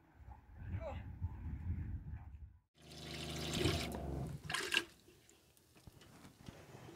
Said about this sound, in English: I've got cold water to wash up in.